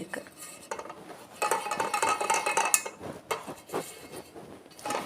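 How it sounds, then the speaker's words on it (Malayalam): Metal idli cooker plates being oiled, with repeated clinks, scrapes and rattles of metal on metal in irregular bursts, close by and fairly clear, no talk. "ഒരേ തട്ടിൽ നമുക്ക് എണ്ണ പുരട്ടിയെടുക്കാം"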